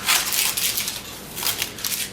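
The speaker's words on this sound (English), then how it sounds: "you can take some scissors" Scissors make a few quick, crisp snips while trimming a cheesecake in a home kitchen, close and fairly soft, with no voices.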